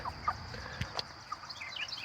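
Cornish Cross meat chickens, about six weeks old and roughly 3.5 pounds, cluck softly on pasture in short, scattered calls at moderate distance over a low outdoor background.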